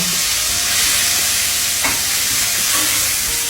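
Chopped kimchi is stirred and fried in a hot pan, giving a loud, steady sizzle with scraping stir strokes throughout and no talking.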